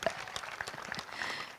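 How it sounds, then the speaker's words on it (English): An audience at a debate event applauds. The dense clapping is moderately loud and fairly distant, and it keeps up through the whole short stretch. "You just give a big round of applause"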